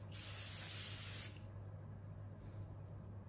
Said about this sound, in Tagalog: I got the Sika Sink Mineral Spray.